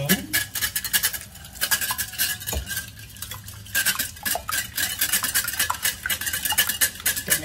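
Eggs, salt and sugar whisked together in a bowl for yogurt pancakes, a busy, continuous scraping and clinking of utensil against the bowl, fairly close, with quick uneven strokes throughout.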